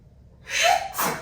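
A person sneezes once, a quick sharp intake of breath followed by a burst of noisy exhalation, close and fairly loud in a quiet room.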